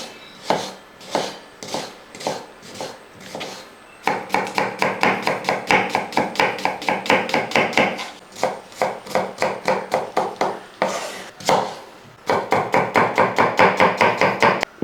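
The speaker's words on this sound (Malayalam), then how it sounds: "അപ്പം സവോള നമുക്ക് ഒന്ന് കൊത്തി അരിഞ്ഞെടുക്കണം." A knife finely chopping onions on a board, fast repeated thuds in steady runs broken by short pauses, close and loud with no talk.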